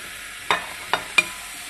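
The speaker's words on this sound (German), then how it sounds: "Wenn ihr mit dem kleinen Schneiden fertig seid, müsste auch der Topf schon heiß sein und ihr gebt die Apfelstücke hinein." Apple pieces dropped into a hot pot for apple-and-wine compote give three short, separate sizzling bursts within about a second, close and fairly loud over a quiet kitchen background.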